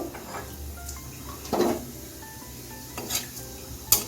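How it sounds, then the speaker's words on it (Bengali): White cumin seeds dropped into hot oil reused from frying kofta for tempering give a faint, steady sizzle, with a few light metallic scrapes and clinks of a utensil against the pan. "এখন ফোড়নে সাদা জিরে দিয়ে দিচ্ছি জিরেটা একটু"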